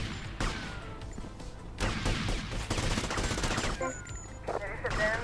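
Gunfire in GTA III or Vice City: loud, dense bursts of rapid shots and crackling volleys, near and continuous with short lulls, with a voice talking now and then.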